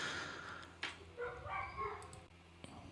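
Household dogs bark and yip in short scattered bursts at close range, over a steady background hum with no speech.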